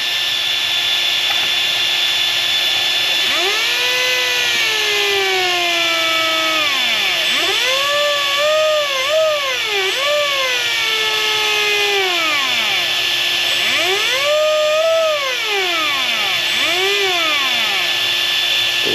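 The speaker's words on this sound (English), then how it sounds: "So you can already tell it's working just by the sounds that it's making, but we'll go ahead and spin it." A Spektrum RC electric motor spins up and down several times, giving a close whining tone that sweeps up and falls in pitch over a steady electrical hum.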